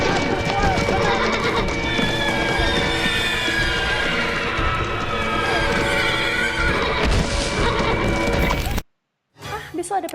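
Horses in a World War I setting, unused to saddles, neigh and whinny repeatedly over clip-clopping hooves, all under continuous spoken narration, before a brief silence near the end.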